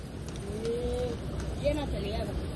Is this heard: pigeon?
yes